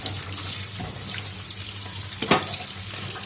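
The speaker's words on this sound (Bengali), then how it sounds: "এখানে লাল শাকটা ধুয়ে নেব এখন" Red amaranth greens are washed under a running kitchen tap. Water streams steadily into the sink, with a brief louder splash near the end. The sound is close and continuous, and no one speaks.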